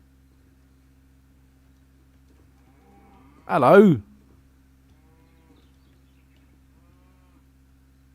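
A single cow in the video game Hytale lets out one clear, close moo of about half a second over a quiet game hum; a voice speaks briefly nearby.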